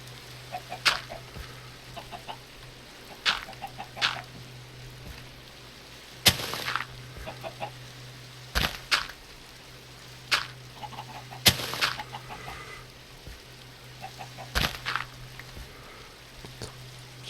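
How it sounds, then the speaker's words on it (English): Chickens cluck in a Minecraft game during a Tektopia warfare session, short bursts of clucking recurring every couple of seconds over a steady low hum, with occasional sharp impact-like pops. "why are these chickens so infuriatingly infuriating?"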